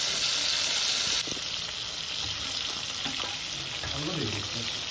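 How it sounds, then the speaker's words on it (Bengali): Pabda and sarputi fish fry in hot oil in a pan, a loud continuous sizzle with soft stirring clinks, no talking. "এখানে দুটো আলাদা সরপুঁটি মাছ নিয়েছিলাম, এগুলোও ভেজে নিব"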